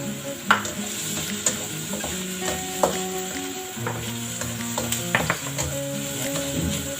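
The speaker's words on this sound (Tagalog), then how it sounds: "Gigisa lang natin hanggang lalabas na yung kanyang aroma." Garlic sautéing in a pan for sotanghon soup: a soft, continuous sizzle with a few sharp utensil clanks from stirring, over background music.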